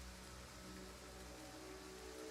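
Steady, soft rain hiss falls across a battlefield in the strategy game Total War: Pharaoh, a faint continuous wash with a low rumble underneath and no distinct drops or talk.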